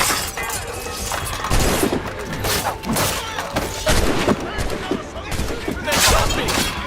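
Volley of musket gunfire during a gate assault in Assassin's Creed Rogue, with rapid overlapping cracks and booms repeating throughout, loud and close, mixed with game battle noise.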